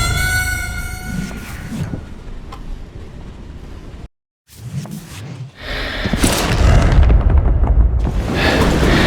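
A freight train in the video game Call of Juarez rumbles loudly and steadily, with clanking and rushing noise, briefly cutting out before the heavy rolling roar returns and builds.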